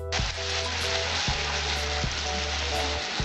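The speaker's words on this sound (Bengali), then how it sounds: "আমার ঝোলটা জাল উঠে গেছে।" Katla fish kalia gravy bubbling hard in a pan, a loud, steady sizzling hiss broken by a few dull thumps, close up with no talking.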